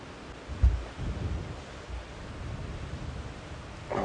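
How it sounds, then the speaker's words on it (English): Cold south wind buffeting the microphone on a live safari drive: a broad, continuous rumbling rush with a few heavier low thumps from gusts, steady and moderately loud, with no speech. "I don't know if you guys can hear that wind buffeting."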